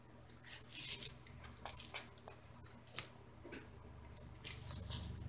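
Small plastic diamond painting drills pour and rattle into a bag in soft, irregular patters and crinkles, quiet and close, with a few sharper bursts of scattered tiny beads and no voices.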